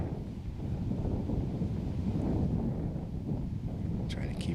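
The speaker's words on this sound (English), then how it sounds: "I'm trying to take my time and let that gust blow through" A wind gust blowing across an outdoor disc golf course, a steady low rumbling buffet on the microphone that swells and holds, with a faint brief higher sound near the end.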